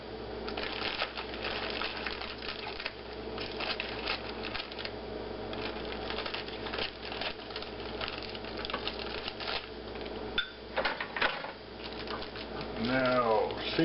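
A plastic bag of muffin mix being opened up close, with steady crinkling and rustling of the plastic and small handling noises continuing throughout.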